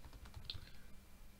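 Keys clicking on a computer keyboard while an email is typed, a brief quiet patter of taps with low room hum underneath.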